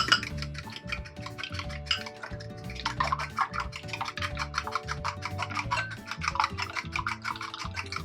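Banana bread batter with salt is stirred in a bowl, a steady run of soft scraping, tapping strokes against the bowl's sides, close and fairly quiet, without speech.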